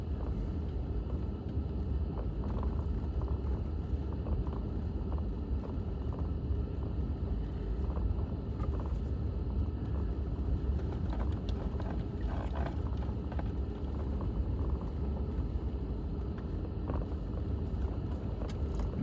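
A car drives down a dusty hill road on Mount Coolidge in Custer State Park, South Dakota, heard from inside as a steady low engine rumble with rattles and bumps from the rough surface.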